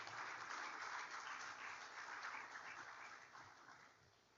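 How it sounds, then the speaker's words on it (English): A conference audience at a science award ceremony applauds, a soft, dense and sustained patter of many hands that gradually tapers off toward the end. "Can we just give ourselves a round of applause?"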